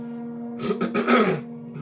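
A throat being cleared a few times in quick rough bursts, close and fairly loud, over a steady low hum.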